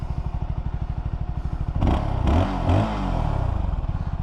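A 2023 CFMoto 300SS single-cylinder motorcycle engine with a steady, thumping idle, briefly blipped with a couple of revs before settling back to its loping putter, close by.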